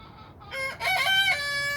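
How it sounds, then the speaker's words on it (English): A rooster crows once, loud and nearby, a long cock-a-doodle-doo with a drawn-out final note. "Rooster said, what up?"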